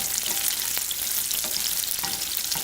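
Pearl onions sear in butter and oil in a hot pan, giving a dense, steady close-up sizzle with a few faint clinks and no talking.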